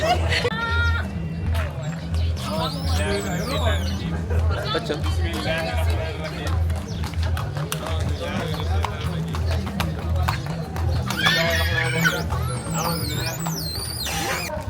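A horse-drawn cart at a jazz festival in Saint-Louis, Senegal, with steady clip-clopping hooves running throughout amid a lively crowd and nearby chatter.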